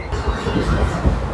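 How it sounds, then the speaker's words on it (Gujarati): A passenger train running at about 100 km/h near Sihor on the Bhavnagar to Junagadh line, heard from inside as a steady, loud rumble of wheels and carriage with continuous rail noise and no let-up. "100 ની સ્પીડે હાલે છે અમારી ટ્રેન"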